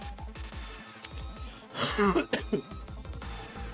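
A person with a head cold clears their throat and coughs in a short rough burst partway through, close and fairly loud, over a background of faint rhythmic thumping.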